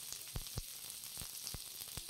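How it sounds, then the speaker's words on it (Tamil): Garlic and onion frying in oil for restaurant-style dragon chicken, a faint steady sizzle broken by several soft, evenly spaced stirring knocks. "இப்போ வெள்ளைப்பூடும் நல்லா பொரிஞ்சிருச்சு."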